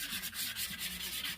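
A sanding pad rubs a wooden hand plane tote in quick, rhythmic back-and-forth strokes. The close, dry, scratchy pulses repeat about every tenth of a second with no voices.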